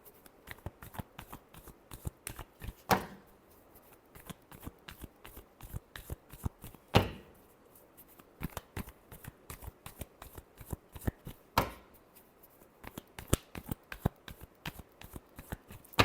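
Tarot cards are shuffled by hand in a long run of quick, crisp riffling flicks, with a few louder snaps, close and alone with no talk.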